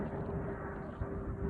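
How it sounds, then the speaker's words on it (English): An airplane flies overhead, heard as a low, steady rumbling drone with a faint tonal hum. It sounds distant and continuous for under two seconds, and no one talks. "You got an airplane flying over me."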